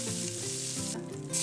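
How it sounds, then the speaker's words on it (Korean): Shelled, deveined shrimp sizzling in olive oil in a pan, a steady close hiss of frying with no talking. "껍질과 내장을 제거한 새우를 물기를 잘 제거한 후에 기름에 볶습니다."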